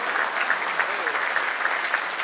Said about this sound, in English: Big round of applause for Mr. Murthy